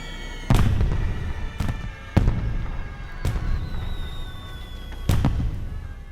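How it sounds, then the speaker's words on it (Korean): Fireworks in a film burst in five sharp, loud explosions at uneven intervals, each followed by crackling decay, with a faint whistle rising through the middle. "폭죽 소리가 사라지면서"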